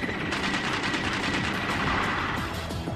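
Soviet GSh-23 twin-barrel 23 mm aircraft cannon firing a sustained, loud burst of extremely rapid shots that merge into a continuous roaring buzz, with no pauses throughout.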